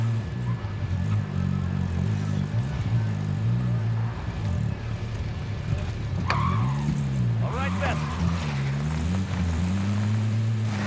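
A car driven through Verdansk in Call of Duty Warzone, its engine holding a steady, loud drone for about eleven seconds, with a few brief chirping sounds partway through.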